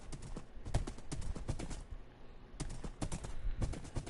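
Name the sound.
horse hooves clip-clopping in Minecraft video game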